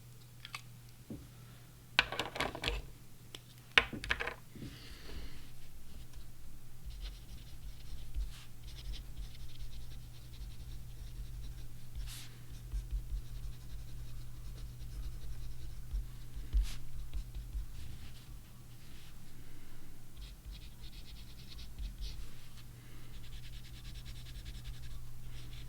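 Short, dry strokes of a fountain pen nib on paper sound much like a pencil, close and quiet, with a few sharper taps near the start over a constant low hum.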